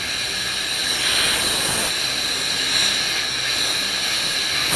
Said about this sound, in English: I'll insert it into the hole where the spark plug goes and blow air into the cylinder and out the muffler